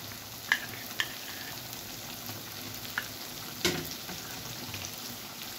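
Mustard paste added to a sizzling, oil-released masala in a pan for a tilapia and eggplant curry, a quiet steady frying hiss with a few soft stirring clinks and scrapes.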